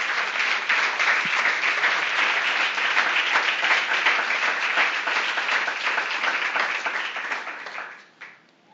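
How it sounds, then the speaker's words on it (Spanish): A church congregation breaks into sustained, dense applause that stays full and steady for about eight seconds, then fades out quickly with a final scattered clap. "Démosle palmas al Señor"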